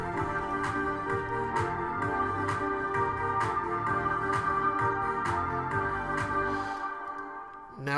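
A dance track's beat and riff samples play together in a steady repeating pattern of sharp percussive hits over layered tones, then cut off near the end.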